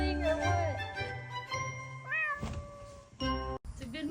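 Mother cat in a cat tower on a porch with her six-week-old kitten, meowing repeatedly in rising, wavering calls, close and clear, with a few soft thunks and a light tinkle between the meows.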